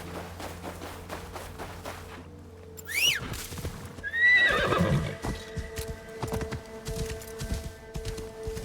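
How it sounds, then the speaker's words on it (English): A horse spawns in a video game, neighing and whinnying loudly twice amid clip-clop hoofbeats and other game sounds, heard with no talk. "make the game spawn the horse on me"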